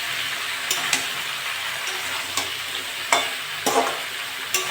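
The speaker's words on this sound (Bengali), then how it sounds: "ভালো করে নেড়ে চেড়ে নিয়েছি" Ridge gourd stirred in a frying pan for a prawn, potato and pumpkin curry, with a steady sizzle broken by several sharp spatula scrapes and taps against the pan.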